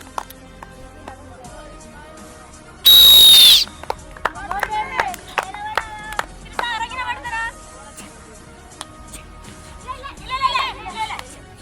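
Sports whistle blown at a school children's game, one loud shrill blast around the three-second mark, followed by children's voices and chatter.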